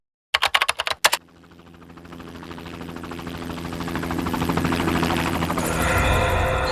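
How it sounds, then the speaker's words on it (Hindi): A helicopter builds from faint to loud, its rotor thudding in a fast steady beat that grows nearer over several seconds, preceded by a quick burst of sharp clicks. "ये हेलीकॉप्टर की ही आवाज है"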